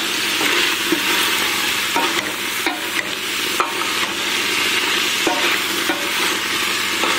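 A wooden ladle stirs fresh green beans in a pot, giving a steady wet scraping and bubbling sizzle with faint knocks against the pot's side, continuous and close, with no voices.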